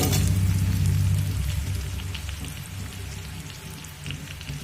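Chopped ginger sizzling in hot oil for dhaba-style chilli chicken, a steady dense crackle that starts loud and eases slightly, heard alone without talk.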